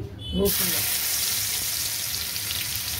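Grated garlic hits hot oil in a wok on a gas stove, with a soft thud followed by a sharp, close, steady sizzle that continues to the end.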